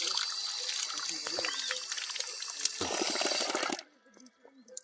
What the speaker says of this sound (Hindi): ये रहा पानी का, फ्रेश पानी माउंटेन से आता है